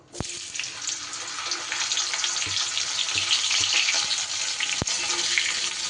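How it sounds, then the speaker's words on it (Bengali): Cauliflower florets frying in hot oil left from earlier frying, giving a constant close crackling sizzle with a couple of sharp utensil taps against the pan and no voices. "ভাজার তেলেই আমি ফুলকপিগুলো ভেজে নেব।"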